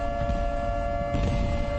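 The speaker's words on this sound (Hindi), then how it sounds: "सायरन की आवाज भी आप सुन पा रहे होंगे।" Civil defense air raid siren during a missile attack on the Israeli city of Bat Yam: a steady, sustained wailing tone over a deep low rumble, continuous and unbroken, with no voices.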